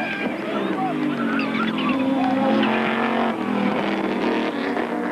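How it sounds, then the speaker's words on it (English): Modified Audi and Ford race cars lapping a circuit in a 1994 Wesbank Modifieds round at Aldo Scribante, engines droning and passing steadily beneath continuous race commentary. "The Ford is simply cruising around, and there's a break for Funamava as Wilford goes wide at Repco Bend"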